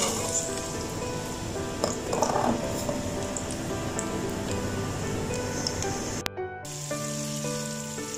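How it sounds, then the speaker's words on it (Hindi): Onion frying in hot oil in a pan, a steady close sizzle with crackling pops that runs throughout, briefly cut by a clatter near the end. "ये देखिए प्याज मैंने ऐड कर दी है। प्याज को हल्का सा फ्राई करेंगे"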